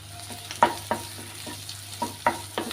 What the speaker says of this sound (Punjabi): ਇਹਦੇ ਵਿੱਚ ਅਸੀਂ ਪਾ ਦਾਂਗੇ ਕੱਟੇ ਹੋਏ ਪਿਆਜ਼